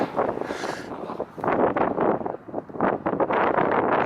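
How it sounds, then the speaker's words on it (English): Gusty wind buffets the microphone in rough, roaring surges that rise and fall, with no voices, on a mountain trail near Susie Lake and Pyramid Peak in Desolation Wilderness. "Getting windy."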